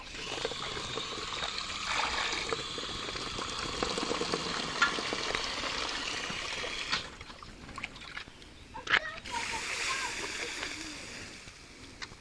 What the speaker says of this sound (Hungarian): Azután felengedjük vízzel.